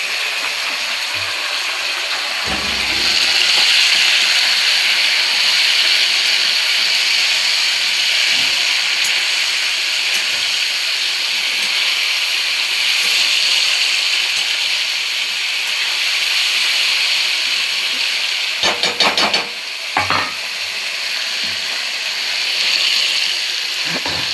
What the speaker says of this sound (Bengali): একটু ভালো করে লাল লাল করে ভেজে নেবো মাছটাকে।